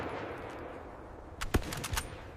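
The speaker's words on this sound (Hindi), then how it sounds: "Fire continuously. Don't stop." Gunfire in a Hindi drama shootout between dacoits and police: after a quiet stretch, a quick cluster of several sharp, loud shots cracks out in an uneven burst near the end.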